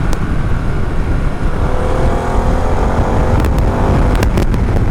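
A Harley-Davidson Pan America Special motorcycle accelerating on a road test ride, loud broadband engine roar with heavy wind rush, rising steadily and continuously with no pauses.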